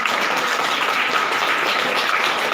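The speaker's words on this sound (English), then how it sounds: "let us have a huge round of applause for our tiny tots" An audience at a school National Science Day event applauds young children, a brief, even burst of clapping throughout.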